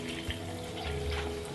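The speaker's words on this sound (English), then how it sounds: "now I'm going to top it off with some hot water" Hot water pours into a blender holding a recipe with olive oil, a continuous quiet splashing trickle with a faint steady tone underneath and no voices.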